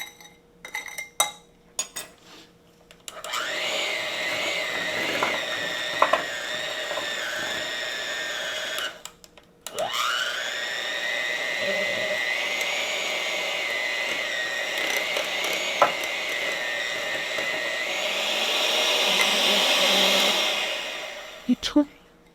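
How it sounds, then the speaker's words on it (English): Electric mixer beaters whirring steadily while whipping a creamy butter topping for a sweet potato cinnamon roll cake, a loud sustained motor whine that stops briefly, restarts and runs on with faint clinks. "So I'm just going to get that butter out of my beaters."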